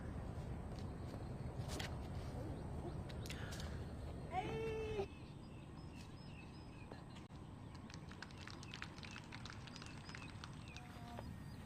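A cat meows briefly at a disc golf tournament course, a short rising call standing out over steady outdoor ambience with distant crowd noise.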